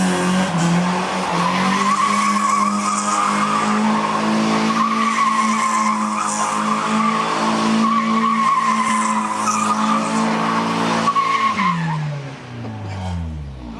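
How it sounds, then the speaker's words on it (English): A Mazda Miata engine runs loud and steady at close range, a buzzy, raspy idle with rising and falling revs, then it cuts off near the end. "That's what it's supposed to sound like. It's a Miata."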